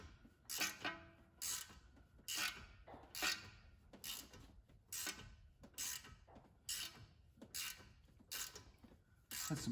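A clamp is cranked down on rusty threads during a 1999 Acura CL 2.3 front passenger-side ABS wheel speed sensor job, producing about ten sharp, ratchet-like clicking bursts in a steady rhythm, close and fairly loud with no talking.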